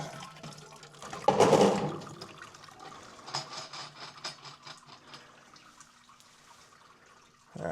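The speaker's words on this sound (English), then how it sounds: "come back once this is drained out a little bit" Water drains from a seven-gallon beer brewing kettle with a brief loud gushing rush, then settles into a quiet, steady trickle and dribble in a fairly calm room.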